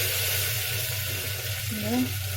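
Green chilies dropped into hot oil already holding cumin: a faint, steady frying hiss with a low background hum and a brief tonal squeak near the end, quiet and close.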